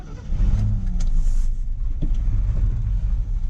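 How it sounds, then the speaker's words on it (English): Old 305 engine revved briefly, a rough mid-pitched rumble rising and falling over a few seconds at close range. "just so you guys have an idea of what this old 305 can do"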